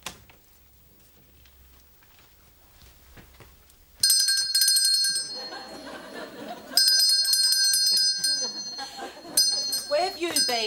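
A hand bell rings loud and bright in bursts of rapid ringing, starting abruptly after a quiet stretch, with voices and laughter underneath.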